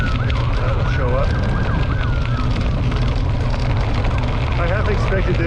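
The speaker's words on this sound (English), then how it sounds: "oh, there goes the ambulance." An ambulance siren passes on a suburban road during a bike ride, its wavering wail rising and falling over a steady, loud rumble of wind and road noise.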